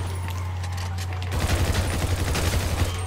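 A sudden burst of rapid gunfire in GTA 5 erupts after a low steady hum, continuing as a dense crackling volley of shots.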